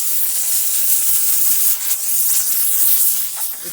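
Vapor Chief auto detailing steamer releasing a continuous, close, loud hiss of steam, steady throughout with slight surges and no talking.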